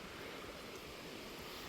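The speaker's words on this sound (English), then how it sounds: "And here's the river" Steady broadband rush of the River Ribble flowing near Mitton, a continuous watery hiss with light wind noise, fairly faint and even throughout, no voices.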